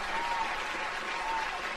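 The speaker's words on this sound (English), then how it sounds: "Is that applause?" Faint, distant applause from a small youth gathering, a soft continuous patter of clapping with a few voices underneath.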